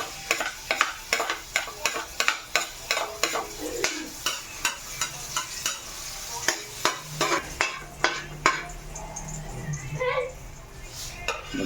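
Garlic sautés in a pan for a bitter gourd dish, a low sizzle under repeated sharp metal spatula scrapes and taps on the pan in a steady rhythm, with someone talking at times.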